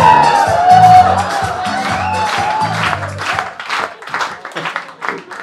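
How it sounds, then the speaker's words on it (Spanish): A studio audience claps at a comedy news show, the applause swelling in as uneven but rhythmic clapping after a stretch of music and voice, with scattered whoops and crowd noise close by. "ese aplauso estuvo ahí desigual, pero no importa, fue rítmico"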